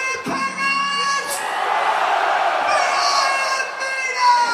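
A packed arena crowd at a concert in Paris, Bercy 1999, screams and roars in a sustained loud wall of cheering and whoops that rises and falls, with a few yells standing out.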